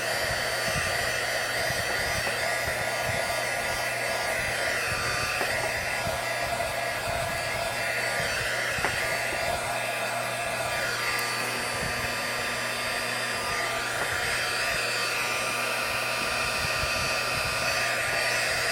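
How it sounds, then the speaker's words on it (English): A heat gun blows steadily over a swirl-painted epoxy tumbler, giving a close, constant whooshing hum for the whole stretch with slight shifts as it is angled. "I'm hitting it with the heat gun at an angle to make sure that it does."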